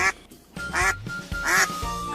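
A duck gives about four loud, nasal quacks at an uneven pace, each a short honking burst. The sound is close and clear, with no talking.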